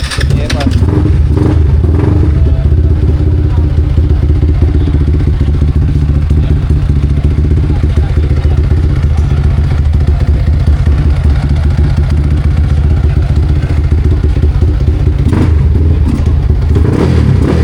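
A loud, close racing motorcycle engine, fuel-mapped with auto tune and never put on a dyno, roars and revs continuously with heavy low rumble and mechanical clatter throughout.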